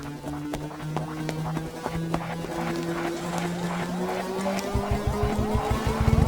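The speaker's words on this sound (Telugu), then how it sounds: "వదిన, స్కార్పియో హాస్పిటల్ లోపలికి వెళ్ళకుండా స్ట్రైట్ గా వెళ్తుంది." A Scorpio SUV speeds along in a film scene, its engine droning and rising in pitch with a building roar and rough rumble toward the end, under a tonal music-like hum.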